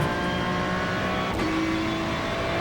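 Ferrari 296 GT3 race car engine in the iRacing simulator, with a loud sustained rising rev as it accelerates out of a corner at Oulton Park. The tone is continuous and close, and no one speaks.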